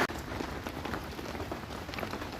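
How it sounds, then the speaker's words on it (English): Light rain pattering steadily on a camping tent during a storm, a dense, even hiss of drops close by with no voices. "The rain is light at the moment"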